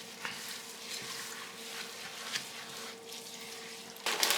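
Milk being stirred into snack batter in a bowl, a quiet wet scraping and sloshing that continues steadily with a few soft knocks of the utensil and a louder burst at the end.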